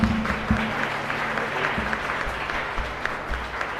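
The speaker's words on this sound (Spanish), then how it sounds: "fuerte aplauso para los padrinos" A church congregation at a Sunday Advent Mass, during a baptism, applauds the godparents with a sustained, even clapping from many hands that fills the room for several seconds.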